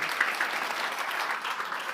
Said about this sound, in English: And again, one more round of applause for Allie.